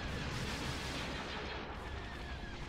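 Starship weapons fire in a Star Wars: Empire at War space battle rumbles as a continuous, dense barrage of overlapping blasts and booms, heavy and unbroken throughout.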